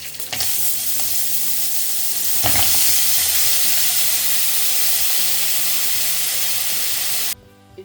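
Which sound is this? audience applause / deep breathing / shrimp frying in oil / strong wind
shrimp frying in oil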